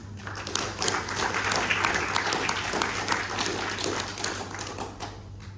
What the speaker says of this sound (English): please give a big round of applause to Dr. Bharati